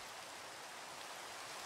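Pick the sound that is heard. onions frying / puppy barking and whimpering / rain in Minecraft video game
rain in Minecraft video game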